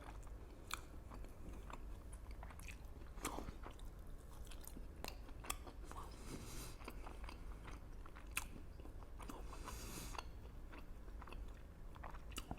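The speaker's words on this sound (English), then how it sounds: "Try a bit of kofta." Someone chewing kofta, Egyptian meatballs, close to the mouth: soft wet bites and scattered crunchy clicks over a low, steady background hum, with no talking.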